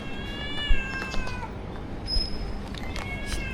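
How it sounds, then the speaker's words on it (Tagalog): A cat gives several drawn-out meows, fairly close, with some soft background noise and brief knocks. "Cute niya mag-meow."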